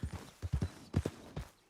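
Horse hooves clip-clop in the video game Red Dead Redemption 2, a quiet, uneven series of soft thuds in small clusters, with no talk.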